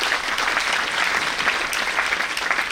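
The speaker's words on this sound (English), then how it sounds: "Let's give a big round of applause to all of them." Dense, steady applause from a large audience at a chartered accountancy students' national conference, honoring student paper presenters, sustained and even with no gaps.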